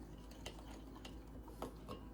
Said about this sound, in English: Stir well, especially with the brown sugar that's in there.